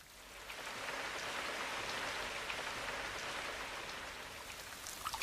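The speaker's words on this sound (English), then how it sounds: "I shouldn't grumble about the rain." Steady rain falls on a garden, a soft, even hiss of drops that holds at a constant level throughout, fairly faint and with no voices.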